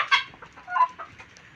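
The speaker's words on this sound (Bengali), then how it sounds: "অরিজিনাল টাইগার মুরগি।" Tiger breed hens cluck a few times in short, close bursts, with quiet gaps between the calls.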